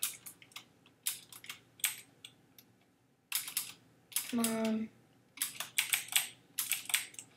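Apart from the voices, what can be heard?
clicking of a new computer keyboard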